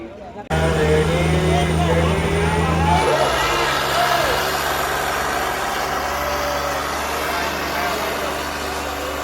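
Tractors strain in a tug-of-war contest, a Swaraj 855 against a John Deere 5050D, their engines a loud, heavy drone that shifts in tone partway through while people talk over it.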